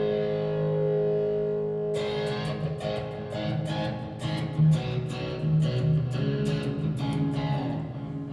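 Electric guitar played through a Donner AlphaFX effects pedal with distortion: a sustained droning chord, then rhythmic distorted strums and ringing notes, loud and alone.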